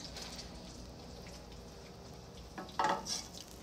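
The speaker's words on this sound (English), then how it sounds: "with the meatballs, you're just wanting to get them brown and kind of start the cooking process" Meatballs browning in a pan for Spanish meatballs, a soft steady sizzle throughout with a brief louder clatter or stir near the end.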